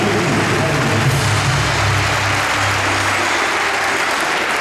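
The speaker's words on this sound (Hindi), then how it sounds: "और वैसे भी कहते हैं ताली बजाने का मौका कभी छूटना भी नहीं चाहिए।" Audience clapping at an open session, a dense continuous wash of applause sustained at steady loudness throughout, with a low hum underneath.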